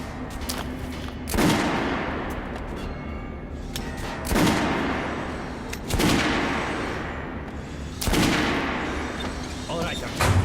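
Heavy gunshots at a weapons range in Metro: Last Light Redux, four loud booming shots spaced about two seconds apart, each with a decaying echo, over faint background ambience.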